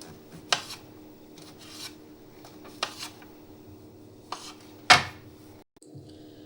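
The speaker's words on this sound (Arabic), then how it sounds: "كده خلصت تقطيع المشروم." A knife slicing fresh mushrooms on a cutting board, a few separate crisp cuts spaced irregularly with quiet gaps between them, close and fairly sharp.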